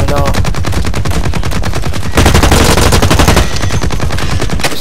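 Video game gunfire, with dense rapid bursts from an automatic weapon close and loud, running almost nonstop and swelling louder halfway through.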